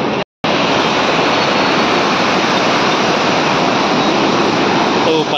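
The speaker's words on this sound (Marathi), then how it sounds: "नदीपात्रात मोठ्या प्रमाणात विसर्ग सुरू असल्याने देऊळगाव मही येथील पुलावरून पाणी वाहत आहे।" Floodwater roars continuously from the opened gates of Khadakpurna dam, all 19 raised, a loud, steady broadband rush close by with a brief dropout near the start and no voices.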